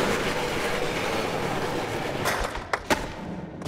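A train ride in the skateboarding video game Skate rumbles with steady rail noise and wheel clatter, followed by a few sharp clacks toward the end, loud and without talk.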